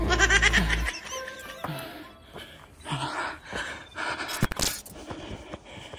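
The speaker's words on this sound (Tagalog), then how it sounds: "Hingal na." Heavy, ragged panting after a mountain trail run in snowy New Zealand terrain, close to the microphone with quick gasps and huffs amid wind buffeting.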